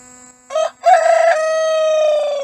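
A young rooster crows once, loud and close: a short opening note, a brief gap, then a long sustained deep call under a steady background hum.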